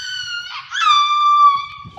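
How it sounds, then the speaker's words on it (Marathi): A newly arrived dog gives a single drawn-out, high whining howl that rises and then slowly falls, loud and close with near silence around it. "हे आमचे एक नवीन कुत्रा आले बघा"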